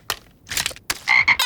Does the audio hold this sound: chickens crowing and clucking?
no